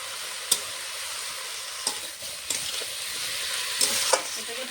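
Bottle gourd greens sautéing in a pan with ginger, cumin and green chili paste, a quiet continuous sizzle broken by a few sharp spatula knocks, close and unhurried, no speech.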